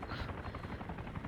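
Helicopter in the video game ARMA, a steady low rotor drone and engine roar that fills the whole moment without letup, heard alone with no talk over it.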